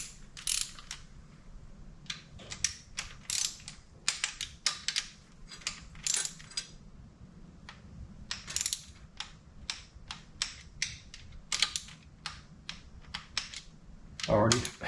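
Fuel injection pumps being tightened to torque with a hand wrench: a quiet series of sharp metallic ratchet clicks and taps in irregular bursts, close to the microphone over a low hum.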